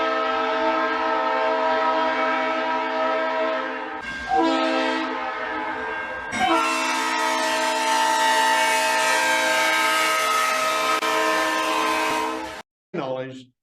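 A train's horn sounds at a road crossing as the engine pauses there: loud, close, sustained multi-tone blasts in a pattern, with one long held note, short breaks between blasts, and a final brief toot.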